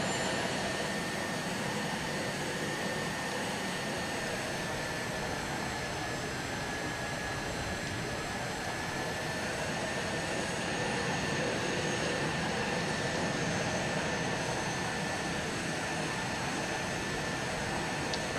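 Steady jet engine roar with a high whine from an M-346 jet in Microsoft Flight Simulator, constant and unbroken throughout, no voices.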